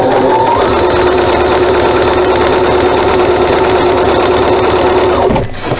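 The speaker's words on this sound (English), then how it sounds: "I'm going to go ahead and stitch, and this is in red so you can see." A sewing machine runs a straight stitch at its default 2.5 length, stitching with red thread in a steady, loud, continuous hum of needle strokes for about five seconds before it stops.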